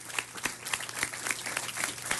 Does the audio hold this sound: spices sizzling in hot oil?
no